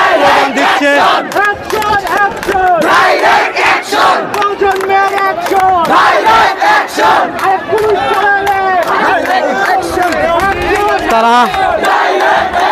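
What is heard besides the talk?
students chanting protest slogans in Dhaka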